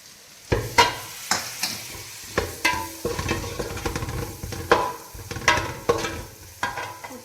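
Tamarind water being stirred into a fish curry in a pan, with repeated scraping stirs and clinks over a soft sizzle, close and unaccompanied by talk.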